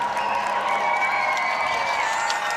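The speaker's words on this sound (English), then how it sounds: "A cheer going up from the crowd." A large outdoor crowd gathered for a royal procession in Wales cheers as horses arrive, a steady continuous roar of voices and whoops at a distance, with no clear individual speech.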